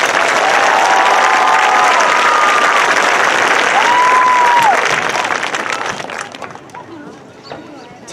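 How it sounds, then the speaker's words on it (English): A large audience at the Brentwood High School Class of 2022 commencement ceremony applauds the graduates in a loud, sustained burst with scattered whoops and cheers, gradually tapering off toward the end. "one more round of applause for this group of graduates."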